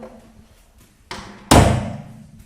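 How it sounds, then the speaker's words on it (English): Two doors close in a recording studio, a softer thud first and then a heavier, louder slam that rings briefly before fading, close by with no talk. "And we close the second door"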